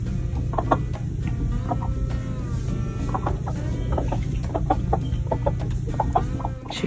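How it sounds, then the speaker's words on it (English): Chickens clucking in a free-range mixed flock, with frequent short overlapping clucks close by over a steady low hum of background noise. "She's an anxiety chicken."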